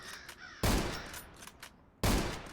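Two heavy gunshots in the video game ZERO Sievert, each a sudden loud broadband blast with a decaying tail, spaced about a second and a half apart.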